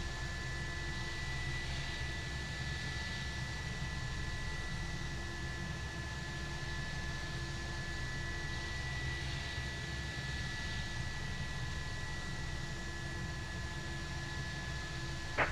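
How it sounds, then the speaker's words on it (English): Steady jet engine drone from an Airbus A340-500 airliner with all four engines running at idle after start-up in the X-Plane 11 simulator, a constant broadband roar with faint tonal whine, unbroken and without talk. "Got a good start up on all engines"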